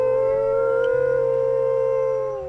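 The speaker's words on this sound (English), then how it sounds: "So let's maybe howl one more time." A single wolf howl in the video game WolfQuest, one loud, long, steady tone held close by for the whole stretch, slowly sagging and fading at the end.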